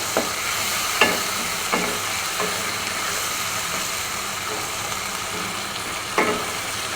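Shrimp and spices fry in a pan with a steady, moderate sizzle. A few sharp stirring clinks break in at intervals, and there is no talking.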